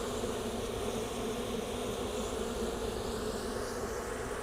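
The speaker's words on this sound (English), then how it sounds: "I'm being extra cautious now that I might have angered a bunch of bees." Honey bees buzz around an open hive in a steady, faint, even drone that holds without a break throughout, with no one talking.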